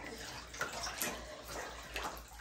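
Water sloshing and splashing in a bathtub where a snake is being bathed, with a few brief louder splashes over a gentle running-water background and no talking.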